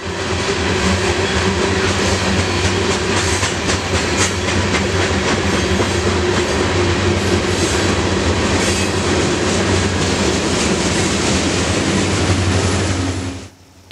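A BNSF Warbonnet locomotive train rolls past in Fort Madison, Iowa, with loud, continuous rumble and clickety-clack of wheels that carries through nearly fourteen seconds before cutting off abruptly.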